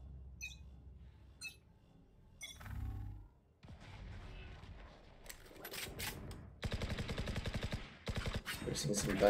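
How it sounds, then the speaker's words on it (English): Gunfire in the tactical shooter video game Valorant during a college esports match: scattered quieter game sounds give way to loud, rapid bursts of automatic fire in the latter half. "Some gunshots being fired."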